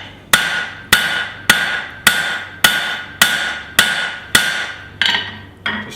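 A forging hammer's cross peen strikes hot steel shaping a garden cultivator: about ten sharp, ringing blows land near the listener at an even pace of roughly two per second, and the last strikes sound softer and duller.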